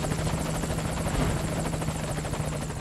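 A helicopter in the Metal Gear Solid 5 video game drones loudly with rapid, steady rotor chop and a constant engine hum, sustained throughout with no voices.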